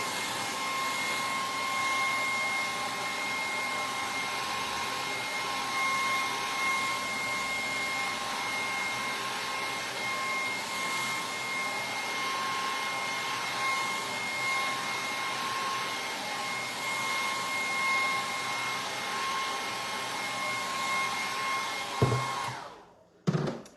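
A hair dryer blows steadily and loudly for over twenty seconds to dry stencil paint on a round wooden sign, a constant whooshing roar with a faint whine, cutting off abruptly at the end.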